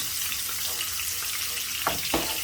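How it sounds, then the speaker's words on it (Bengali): Garlic fries in oil in a pan with a steady, close hissing sizzle, broken near the end by two brief knocks as though a utensil touches the pan. "রসুনটা একটু হালকা ব্রাউন করিয়া নিব।"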